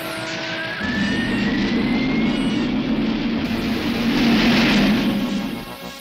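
Cartoon robot squadron aircraft take off together, a steady roaring engine drone rising in pitch with a whining tone sweeping upward, loud and sustained for several seconds before fading slightly at the end.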